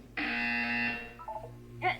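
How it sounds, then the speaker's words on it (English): A video game buzzer in Portal 2 sounds one sustained, harsh electronic tone, then gives way to a few quick lower beeps. "You will hear a buzzer."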